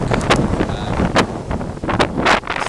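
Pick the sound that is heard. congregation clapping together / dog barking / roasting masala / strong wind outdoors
strong wind outdoors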